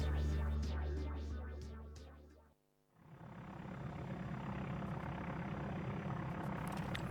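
Steady plane engine drone in a Tomb Raider custom level, loud and continuous after a brief dip, with a harsher, pulsing engine passage before the dip.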